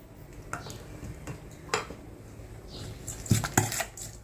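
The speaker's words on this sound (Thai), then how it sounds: "อ่าคลุกเคล้าให้เข้ากันเลย" Spoon tossing a spicy Thai chicken feet salad in a bowl, with scattered clinks and scrapes against the dish, a few sharper knocks near the end, recorded close with no talking.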